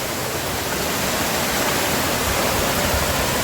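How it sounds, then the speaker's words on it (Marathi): Stream with a small waterfall on a Sahyadri trek near Choravane, Ratnagiri: a close, loud, unbroken rushing of water that fills the whole stretch with no voices. "वॉटरफॉल छोटासा"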